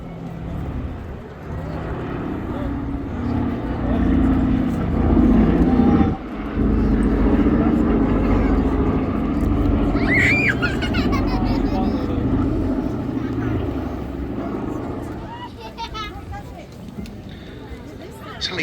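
The Boeing B-17G bomber 'Sally B' flies at the East Kirby Airshow, its piston engines a loud, sustained droning rumble that swells and fades under continuous commentary.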